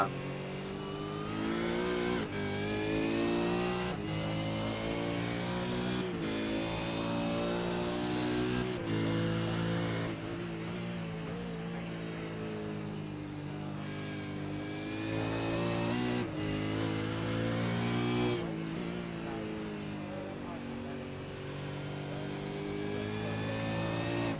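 V8 Supercar engine in a sim racing game at Circuit Zolder, revving loud and steady through gear changes, with sharp shift cuts every few seconds and rising, falling pitch throughout.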